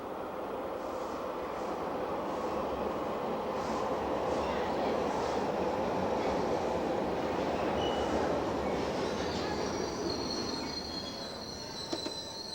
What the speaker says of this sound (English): the day begins and ends with a ride on the subway